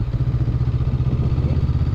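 Several motorcycles running together on a road in Cagayan de Oro, Philippines, a steady, loud low engine drone with a continuous pulsing rumble and no gaps.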